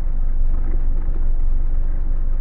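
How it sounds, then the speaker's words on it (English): A car engine idling steadily at about 700 RPM without an idle air valve, a continuous low, even rumble held close and loud with no speech over it. "It's idling stable at 700 with no idle valve."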